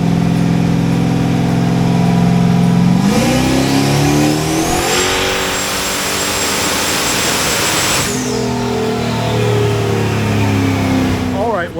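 A turbocharged car, tuned to roughly 10 psi of boost and making over 600 horsepower, revs hard on a dyno. The engine drone climbs in pitch, holds a loud high-rpm roar for several seconds, then drops back to a steady idle.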